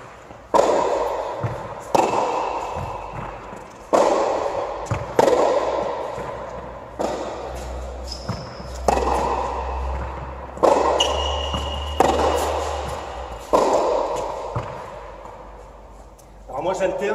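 Tennis balls are struck with rackets in a steady rally, sharp pops coming roughly every second and a half to two seconds, with scuffing footsteps between hits and some faint background noise.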